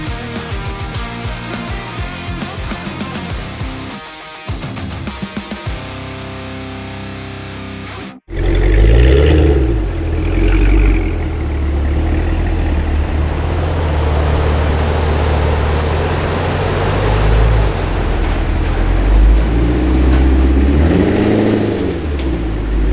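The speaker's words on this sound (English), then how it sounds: "We have Fletcher's Escalade V on the dyno" A Cadillac Escalade V's supercharged engine roars loudly on a dyno, steady and sustained after a sharp cutoff and restart, with a lower rumbling run earlier; no talk over it.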